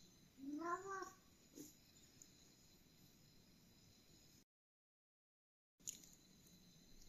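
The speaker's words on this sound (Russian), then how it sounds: "Это смешной кот." A house cat gives a couple of short meows and a drawn-out caterwauling cry near the start, then a quiet stretch with a brief gap of silence and a small noise near the end; no one speaks.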